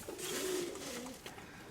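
A single low, soft pigeon coo rolls out close by against a hiss of background noise, from a loft of domestic pigeons kept for breeding, including red and grey white-tailed birds.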